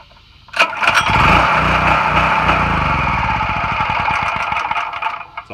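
A brand-new gas generator engine cranks and catches, then runs loud and close with a rough, chugging rhythm for several seconds before faltering and dying out.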